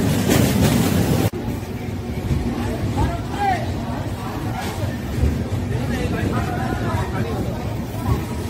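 A passenger train from Howrah rumbles steadily along the rails near Kharagpur, heard from inside with a loud continuous roar and faint voices murmuring beneath it.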